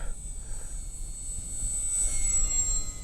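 An H-King F4U Corsair 750mm RC model airplane flies past in the breeze, its small electric motor a thin, high steady whine that swells slightly as it nears, over low wind rumble.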